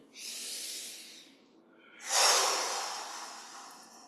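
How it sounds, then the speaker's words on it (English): A slow, deep breath is drawn during a qigong exercise, heard as a soft close airy rush, then a second, stronger breath that fades gradually, with no talking. "And then a deep breath in."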